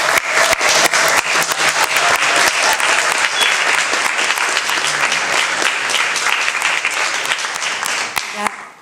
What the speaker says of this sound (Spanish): Os pido un aplauso para el equipo de la película.